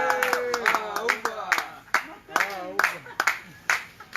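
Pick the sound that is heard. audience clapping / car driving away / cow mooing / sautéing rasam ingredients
audience clapping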